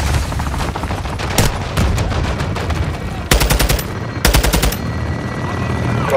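Loud, sustained automatic gunfire from a Call of Duty Modern Warfare 2 campaign battle: dense rattling bursts run throughout, with sharper, louder volleys standing out near the middle and later, and no talking.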